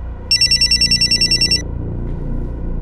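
A telephone rings in a rapid electronic trill, about a dozen quick pulses lasting just over a second, loud and near, then stops and leaves a low background hum.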